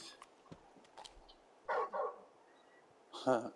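A large dog named Torgal in a video game, giving two short clusters of barks and yips, the second a bit louder, over a quiet background with faint game sounds.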